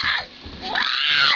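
A baby screams loudly and close by in two shrill, rising cries separated by a brief dip, the second stretched out longer.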